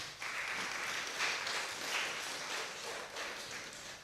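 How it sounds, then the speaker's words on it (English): Audience applause for eleven students from a logo competition at an organization's official launch on La Digue, a steady, fairly soft wash of clapping lasting a few seconds without voices. "Give them a round of applause."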